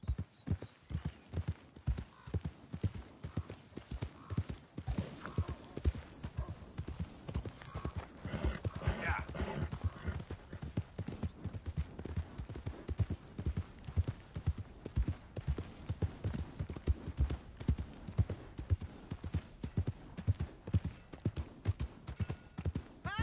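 Hooves clip-clop in a fast, steady rhythm in Red Dead Redemption 2, close and prominent, with a horse briefly whinnying partway through and faint voices underneath.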